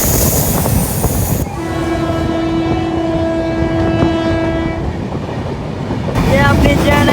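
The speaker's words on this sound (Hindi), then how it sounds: "ये अपनी जयनगर नई दिल्ली स्वतंत्रता सेनानी सुपर फास्ट एक्सप्रेस।" The Jaynagar–New Delhi Swatantrata Senani Superfast Express roars past at a station with heavy rumble and wheel noise, and a long, loud horn blast sounds in the middle before the clatter of the passing coaches surges back up.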